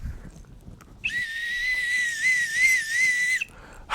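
A person whistles one sustained, wavering high note for about two and a half seconds, loud and close, in an otherwise quiet room.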